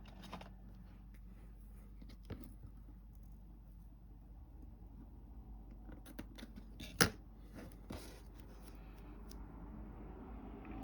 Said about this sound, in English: And get scissors.